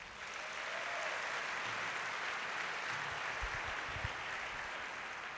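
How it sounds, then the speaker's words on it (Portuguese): Applause from a church congregation during a Sunday family worship service, a steady broadband wash of many hands clapping that holds evenly throughout, with a few low thumps near the end. "Pode aplaudir Jesus"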